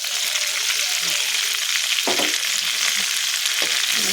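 Ripe red chilies, chopped, sizzle steadily in a hot pan while a spatula stirs them in a few scraping strokes, loud and close, with no one speaking.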